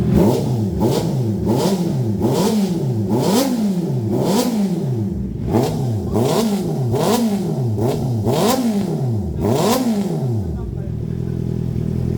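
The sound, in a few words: Honda CB650R motorcycle engine revving with aftermarket exhaust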